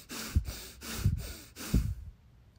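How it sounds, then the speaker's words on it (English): Three forceful breaths drawn in and pushed out through the nose, each a sharp rushing burst, close and fairly loud in an even rhythm with no talking. "So the power breath is only through the nose, and it's a forced inhale and exhale."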